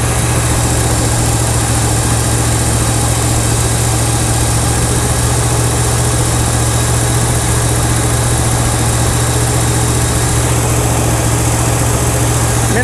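An old Dodge Power Wagon truck, run for the first time in years, idles loudly and close with a steady, heavy low rumble and constant vibration throughout, with no talk over it.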